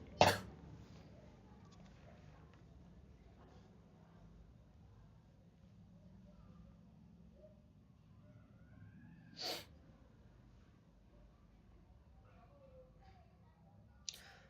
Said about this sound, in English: Sorry for my sneezing.